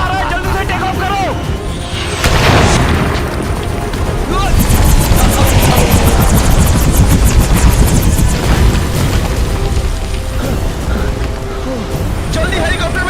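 A helicopter takes off as a building is about to collapse in a Hindi action movie, a loud dense rotor roar with booming crashes and rapid chopping beats, layered under dramatic score and shouted dialogue.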